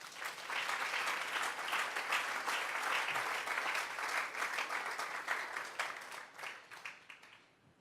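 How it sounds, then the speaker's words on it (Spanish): A church congregation applauds during a sermon, a loud, steady round of many hands clapping that lasts several seconds before tapering off into a few final claps. "Vamos a darle un fuerte aplauso al Señor."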